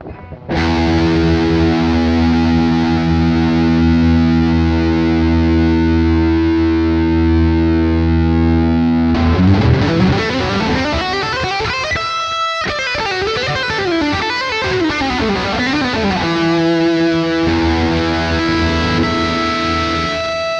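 Donner DLP-124 budget Les Paul-style electric guitar on its treble pickup with a rocky distorted tone: a long sustained chord ringing out, then busier riffing and bends, loud and continuous.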